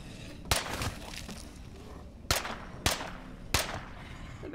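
Four sharp gunshots crack out at uneven intervals over a low background hum in the video game State of Decay 2, each one loud and close.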